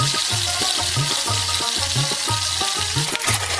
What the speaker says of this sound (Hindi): पहले कढ़ाई में बहुत सारा कुकिंग ऑयल डाल लेता हूँ, फिर इन क्रेफिश को अच्छे से फ्राई कर लेता हूँ